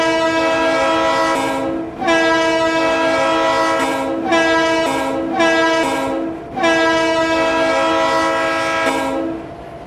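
A diesel locomotive in the Roblox Ro-Scale railway game sounds a loud, sustained multi-tone horn in several long blasts separated by brief gaps, with a bell ringing steadily beneath it.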